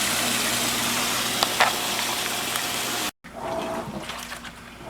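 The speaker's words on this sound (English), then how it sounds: "So we'll let that fill up, and we'll see how far it goes up with the water" An Insignia top-load washing machine fills with water, giving a steady rushing and trickling sound over a low motor hum. The sound drops out briefly, then resumes more quietly.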